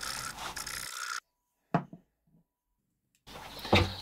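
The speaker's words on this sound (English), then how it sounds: "I finally dug out this really coarse needle file, and now we're getting somewhere." A coarse needle file rasps against a horn in a steady burst of close, scratchy strokes, then stops; a couple of brief knocks follow before the filing resumes in another short burst.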